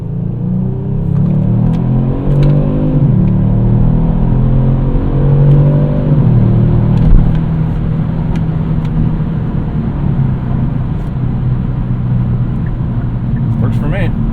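Kia Stinger GT1 AWD engine rumbling loudly at close range, rising through a couple of revs before settling into a steady, deep idle drone.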